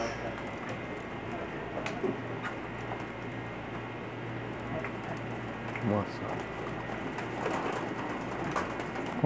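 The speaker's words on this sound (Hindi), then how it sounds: "ये कबूतर पकड़ के लाए हैं" Breeder pigeons cooing softly in a loft, low repeated coos over a steady background hiss, with occasional faint rustles and flutters; no speech over the birds.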